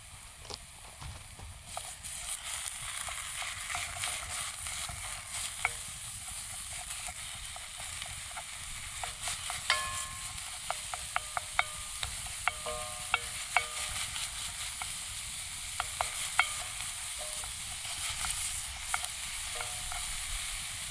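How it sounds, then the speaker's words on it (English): Ground sirloin browning in a pan over screaming-hot campfire coals, a steady sizzle and crackle with scattered pops and scraping stirs, close and continuous with no talk. "These coals are screaming hot, so this is probably gonna brown this beef pretty quick."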